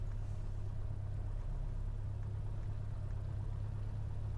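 A small airplane engine runs on the ground at high power during a run-up test, a steady low droning rumble heard at constant level without any talking.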